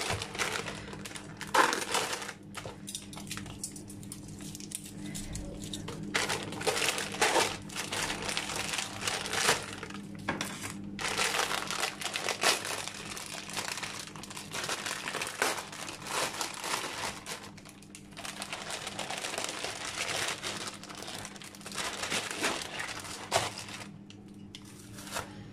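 Thin flatbread being opened and folded around shawarma, with close, continuous crinkling and rustling, including soft crumpling bursts and brief quiet pauses.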